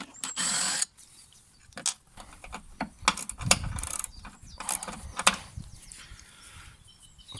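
A ratchet and socket clicks in short, close bursts while undoing bolts on a Toro Timemaster lawn mower, with metallic rattles and pauses between the turns.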